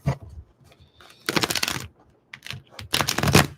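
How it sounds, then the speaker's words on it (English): A tarot card deck is shuffled in two loud riffling bursts separated by softer handling clicks and taps, close to the microphone with no talking. "So we're just going to shuffle."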